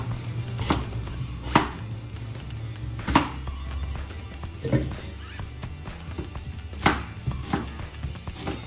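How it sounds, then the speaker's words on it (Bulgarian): Sharp knife strikes chopping an apple on a cutting board, spaced irregularly about a second apart, close and fairly loud over a low background hum. "Първо си нарязваме ябълката."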